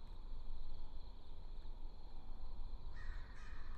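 Crows caw faintly in the distance over a steady, low background rumble, a few harsh calls standing out near the end.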